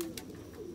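A roller pigeon gives a soft, low, brief coo, faint and close, alone without talk.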